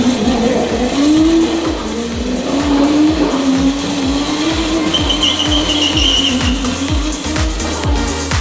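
A Nissan R34 Skyline holds a loud, sustained burnout, its engine droning steadily close by while the tires squeal in a long, wavering screech, with no talking.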